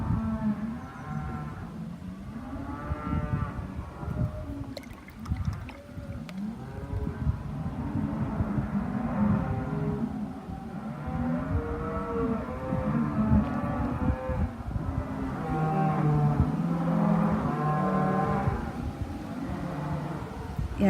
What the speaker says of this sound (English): I think the cows are all going to be milked, so they're all getting a bit sort of frantic and excited